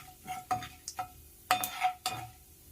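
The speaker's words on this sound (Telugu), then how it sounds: "శనగబేడలు కొద్దిగా వేసుకొని ఫ్రై చేసుకోవాలి" Chana dal frying in a pan, stirred in quick scraping bursts with crackles and a faint sizzle between strokes, close and alone.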